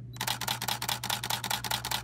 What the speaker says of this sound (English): dazzle everyone within earshot with a symphony of clicking shutter sounds